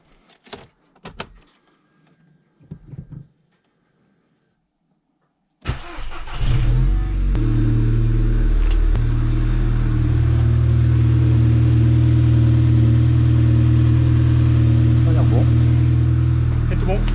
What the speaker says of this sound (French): maintenant je vais juste démarrer la voiture